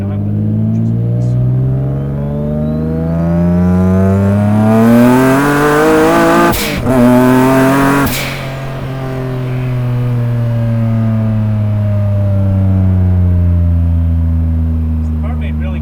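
A 600 horsepower single-turbo Nissan 350Z engine revs loudly up through the range, peaks sharply with a brief break, then settles into a long steady high-revving drone. It sounds close and powerful.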